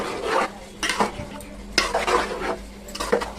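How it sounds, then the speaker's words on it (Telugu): A spoon scrapes and turns chicken curry through biryani rice in a cooking pot, in about four close, rhythmic strokes with a soft sizzle beneath. "మొత్తం కలిసేలాగా కలుపుకోవాలి"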